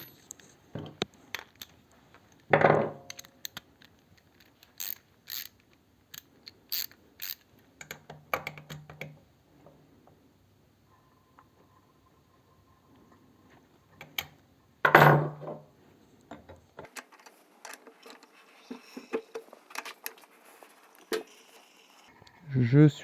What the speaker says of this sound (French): À nouveau, je vais refaire 2 tours de vilebrequin.